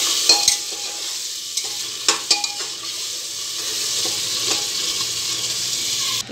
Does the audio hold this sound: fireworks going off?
no